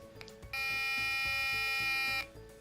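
An Arduino-powered DIY metal detector passed over a coin gives one sustained electronic buzz lasting under two seconds, clear and close, with faint handling noise before and after.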